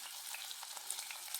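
Onion and curry leaves fry in hot oil in a pan for beetroot mezhukkupuratti, giving a steady, close crackling sizzle with small pops throughout and no talking.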